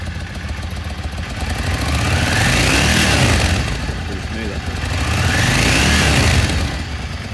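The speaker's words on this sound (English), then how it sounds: "I'll just give it a quick rev so you can listen to what it sounds like." A Yamaha XVS650 Dragstar motorcycle engine, with 12,658 miles on it, is revved up close: a loud, throaty roar that swells into two long rev peaks over a steady idle.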